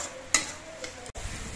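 Raw rice grains being stirred and fried in a pan over a low gas flame, a continuous close sizzle broken by a sharp scrape early on and a brief drop-out near the end, no talking.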